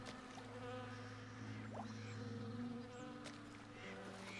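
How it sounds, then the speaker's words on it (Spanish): Insects buzzing steadily in a swamp in the video game Call of Juarez Gunslinger, a dense droning whine with layered hums running continuously throughout. "Mucho mosquito."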